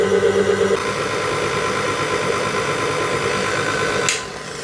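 Stand mixer whipping egg whites for a pavlova meringue, a steady motor whir that speeds up after a moment and then stops abruptly near the end; close and alone.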